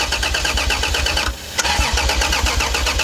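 A Toyota Supra engine cranks and fires for the first time in 15 years, running loud and rough with a brief dip mid-clip before catching and idling steadily close by.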